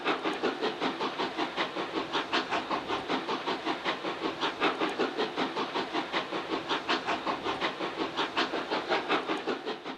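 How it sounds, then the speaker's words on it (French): A 141 R steam locomotive works hard, its rapid, evenly spaced exhaust beats chuffing loudly and steadily over a continuous hiss of steam, with no voices present. "ces coups d'échappement que l'on entendait à plusieurs kilomètres à la ronde"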